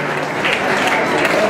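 A live folk concert audience applauds, a steady dense wash of clapping from a large crowd, loud and close throughout the short stretch.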